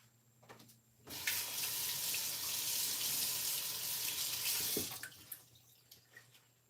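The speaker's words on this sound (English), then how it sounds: "And sometimes just easier and quicker to rinse off the cake scraper." Tap water gushing into a sink to rinse a cake scraper: after a quiet start the stream runs steadily for about four seconds, close and even, then cuts off, leaving a few faint drips and clinks.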